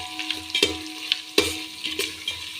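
Vegetables fry in a pan, a soft steady sizzle close by, punctuated by several louder scrapes and clatters of a spatula.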